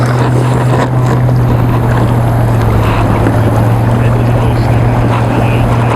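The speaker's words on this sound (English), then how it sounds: "So if I want to pedal the boat and take off, let's just see how quickly we'll get up and go here." An Ocean Kayak Malibu pedal kayak moving through water, a steady close wash of water and hull noise with a constant low hum underneath, loud and continuous without talking.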